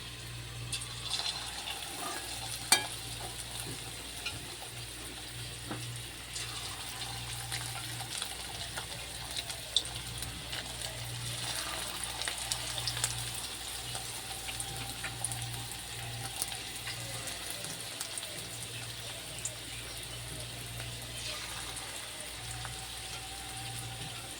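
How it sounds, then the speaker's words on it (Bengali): Pakoras frying in hot oil for a home-cooked chicken lunch give a steady, soft crackle and hiss, continuous and fairly quiet throughout, with a low hum underneath. "ততক্ষণ আমি পকোড়াগুলো ভেজে নিই।"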